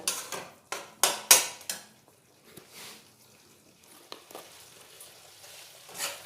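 Tomato with a little salt being sautéed in a pan while cooking khichuri: a few sharp clinks and scrapes of a spoon against the pan up front, then a soft, low sizzle with occasional light stirring.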